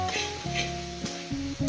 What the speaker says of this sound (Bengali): এবার মশলা 2 থেকে 3 মিনিট কষিয়ে নেব।